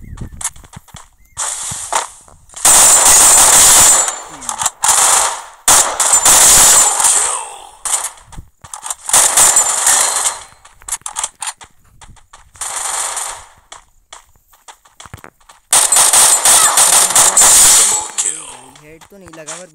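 Gunfire in a shooting video game, with loud bursts of rapid shots in several clusters separated by short pauses, and a player's voice speaking between them.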